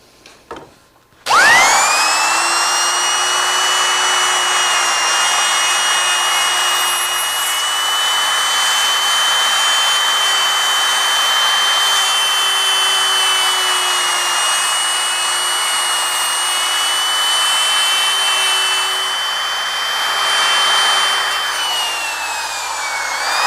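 A router spins up and cuts dovetails through wood, a loud sustained high whine holding steady for about twenty seconds close by, with a slight drop in pitch near the end.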